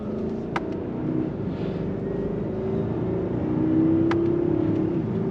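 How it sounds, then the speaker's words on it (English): Mercedes-Benz S580 sedan in manual mode pulling hard on a sporty drive, a steady engine drone that swells louder toward the end, heard from inside the cabin with a couple of brief clicks. "I want to go ahead and demonstrate this car on a little bit of a sporty drive."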